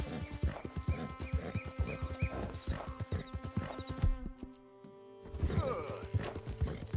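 A horse in the video game Red Dead Redemption 2 trots with close, rhythmic hoof clops and a short whinny, then goes nearly silent for a moment before the hoofbeats resume.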